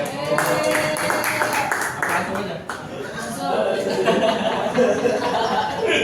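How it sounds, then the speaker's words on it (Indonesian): Classroom group of students clapping for a sick classmate during a math group presentation, scattered clapping mixed with chuckles and chatter running throughout. "Beri tepuk tangan dulu dong, biar Mas Fahmi semangat"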